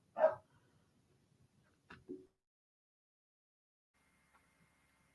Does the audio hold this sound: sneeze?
no